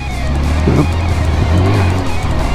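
A motorcycle engine barely idles, roughly sputtering and nearly stalling, its revs rising and dipping unevenly as it hesitates, loud and close.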